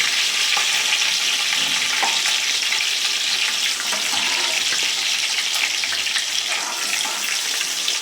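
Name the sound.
cumin and vegetables frying in splattering oil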